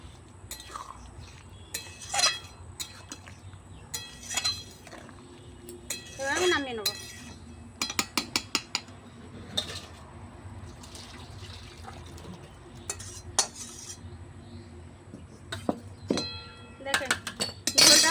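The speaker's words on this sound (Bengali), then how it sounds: "অল্প একটু ভাজা জিরে গুঁড়ো দিয়ে একটু নেড়ে দেবো" A metal spoon stirs a rohu fish-head curry with potato, brinjal, tomato and roasted cumin powder in a pot on a clay stove, giving repeated light clinks and scrapes at an uneven pace, with occasional voices.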